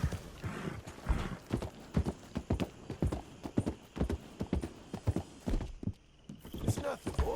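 Horse hooves clip-clop at a steady walking pace in Red Dead Redemption 2, with close, crisp repeated strikes, a brief snort or neigh, and someone talking over the hoofbeats.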